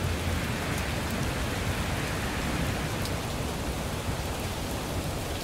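Heavy thunderstorm rain pours in a dense, steady hiss that stays constant and close throughout, with no distinct thunderclap standing out.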